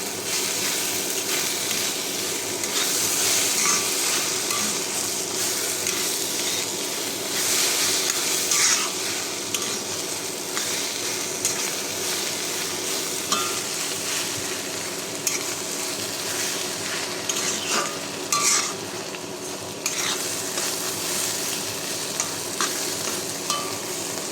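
Food sizzles and crackles steadily in a hot pan, with occasional stirring scrapes and clatters over the continuous frying hiss.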